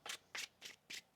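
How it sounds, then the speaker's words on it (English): Tarot cards are shuffled by hand in five quick, evenly spaced riffling bursts, soft and close, with no voices. "One more shuffle."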